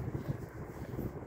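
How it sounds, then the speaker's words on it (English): Low, rumbling wind buffets the microphone in an uneven, gusty roar, with no voices. "Oh, ang windy. Kaya nga pala malamig."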